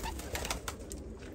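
A brief, low coo from Malfazar ejder pigeons sits close by under a dense, noisy background, with no voices.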